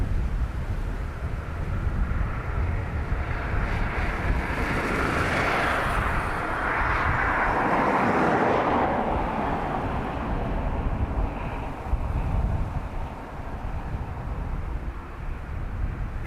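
A Qatar Boeing 777 airliner at Dublin Airport produces a loud, continuous broadband jet roar that swells and fades, with wind buffeting mixed in and no talk.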